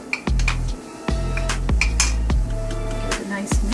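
A spoon mixes coriander and fennel powder in a pan, giving a series of close, loud metallic scrapes and clinks in an uneven rhythm over a low hum.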